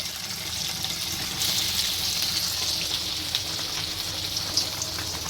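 Onions frying in oil in a pan for a Bengali prawn and vegetable-stem curry, making a steady close sizzle with a bright hissing wash and small crackles throughout.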